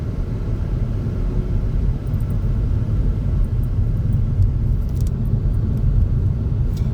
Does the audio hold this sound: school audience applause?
no